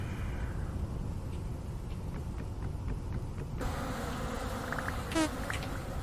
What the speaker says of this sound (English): Bad bees.